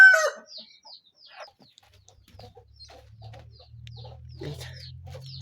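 Village homestead hens cluck in short bursts during the first half, with fainter chicken calls scattered throughout over a low, steady background rumble.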